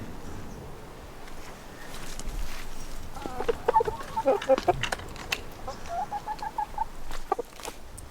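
Chickens clucking nearby, a run of short bursty clucks in the second half over a quiet outdoor background.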